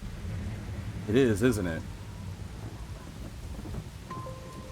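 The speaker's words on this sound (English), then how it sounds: "This must be the thing that's making the rain." Steady rain with a low rumble of thunder in the video game Master Detective Archives: Rain Code, continuous in the background while a person briefly talks.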